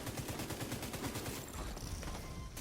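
Automatic weapon fire in The Division 2, a fast, steady rattle of close shots that runs without pause through a dense firefight.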